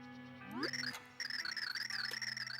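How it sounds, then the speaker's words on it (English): Chiming bell tones ring out in a Paper Mario-style game finale, a bright rising glide giving way to repeated high, wavering melodic notes over a sustained low tone, steady and moderately loud. "I hear bells."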